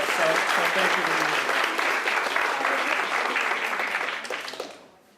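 An audience gives a round of applause for two people, dense clapping from many hands that holds steady and then tapers off over the final second, with some voices mixed in.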